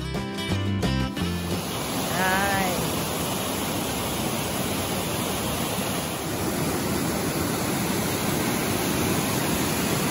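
Dai Yem waterfall in Moc Chau, Son La, pours as a steady, broad rushing roar, constant and close, following a short burst of music at the start and a brief whistle-like tone.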